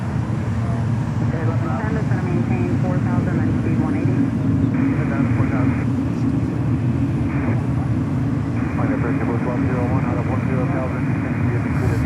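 An airliner arrives at Fort Lauderdale airport as a steady low engine rumble, heard beneath close, continuous talk.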